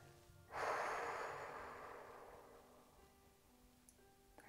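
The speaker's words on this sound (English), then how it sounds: "Breathing here." A single long exhale during a relaxing gua sha facial massage session, a soft close breath that swells quickly and fades slowly over several seconds, followed by quiet with a faint tap at the end.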